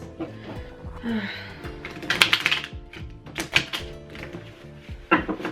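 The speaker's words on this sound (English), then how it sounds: "I'm just gonna do a quick shuffle." Tarot cards are shuffled by hand in a quick series of crisp riffling taps and clacks, near and fairly loud, bunched in irregular bursts with short pauses between them.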